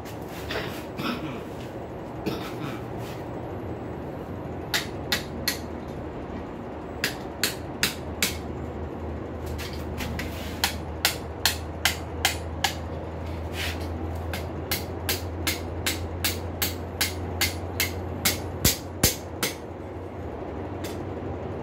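Hammer striking a hot rail spike on an anvil to spread its jaw, sharp ringing blows that start irregular and settle into a steady, rapid rhythm over a low continuous hum, close and loud.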